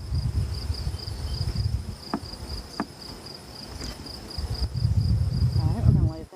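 Honeybees buzzing around an open hive of newly settled, calm bees, a steady low hum close by with a faint thin whine running throughout.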